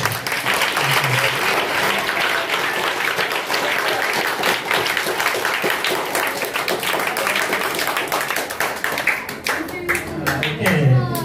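An audience at a meditation gathering bursts into loud, sustained applause with sharp individual claps throughout, the clapping thinning toward the end as a voice and other noise come in.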